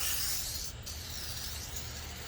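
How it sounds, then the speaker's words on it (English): A continuous spray of Koenig car cleaner hisses from a can onto a car for a couple of seconds, a steady airy sound. "we're going to spray it right here and see what it does"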